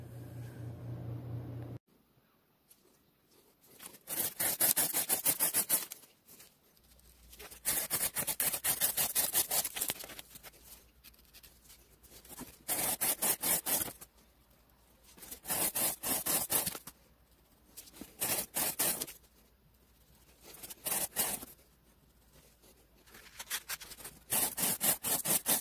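Budget Kershaw 3cr13 and Camillus 440A knife blades slice through material in a cutting test, producing repeated bursts of bright rasping, scraping strokes separated by short quiet pauses, close and fairly loud with no talking.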